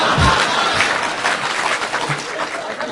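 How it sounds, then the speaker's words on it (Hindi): Audience applause at a Hindi poetry recital, a dense, loud wash of many hands clapping close by, steady for nearly three seconds with faint crowd murmur mixed in. "शशिकांत तुम भी ताली बजाओ।"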